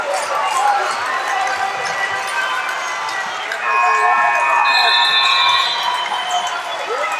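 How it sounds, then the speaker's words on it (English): Wildcats fans cheering at a boys Division 1 regional final basketball game, a steady crowd roar with shouts and whistling tones rising midway, sneaker and ball noise underneath and nearby talk. "And the Wildcats start to cheer."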